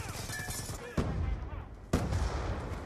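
A sniper rifle fires in Call of Duty: two sharp, loud shots about a second apart, each opening on a hard broadband crack and trailing off, over steady game noise.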